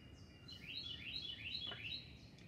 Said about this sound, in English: I can hear the birds chirping, can you?